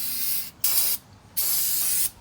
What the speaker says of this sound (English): I'm still going to spray it down with Detroit Axle's brake parts cleaner that they send in these kits.